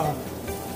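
Garlic and onion hit hot oil in a pan for an eggplant omelette with ground pork, a brief burst of close, steady sizzling.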